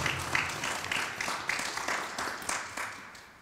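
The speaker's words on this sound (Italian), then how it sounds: "alla quale tributiamo subito un bel applauso." Applause from an audience at a municipal award ceremony in Mazara del Vallo honouring writer Rosanna Catalano, a dense steady patter of many hands at moderate level lasting throughout without speech.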